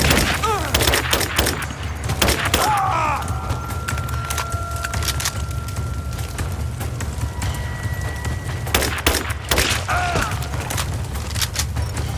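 Enemies in the video game Rise of the Tomb Raider let off gunfire in repeated sharp cracks and bursts over a constant rumbling game backdrop, loud and busy throughout.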